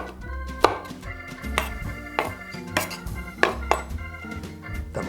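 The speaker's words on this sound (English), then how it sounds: "Dicing into around about centimetre square pieces." A knife dicing capsicum into small centimetre-square pieces on a cutting board, giving sharp close chops in a loose, uneven rhythm alongside softer knocks and scrapes of the blade, with no speech.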